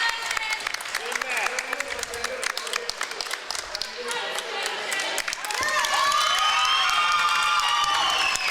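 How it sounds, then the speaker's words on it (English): Crowd applauding and cheering in a gym at a middle school wrestling match, steady clapping throughout that swells louder toward the end, with shouts and voices mixed in. "A nice crowd here. A nice applause for the young man."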